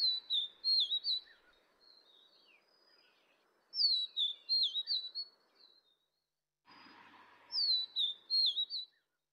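A Taiwan endemic bird subspecies sings clear, smooth whistled phrases in three separate bursts, with quiet pauses between them.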